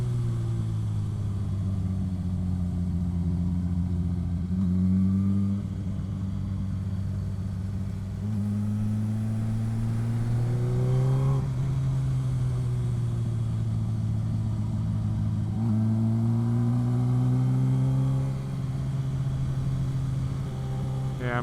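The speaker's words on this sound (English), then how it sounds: "This exhaust is loud as hell." A Suzuki GSX-R1000 motorcycle with a loud aftermarket exhaust rumbles continuously up close, its engine note rising and falling through several gentle revs while a rider talks over it.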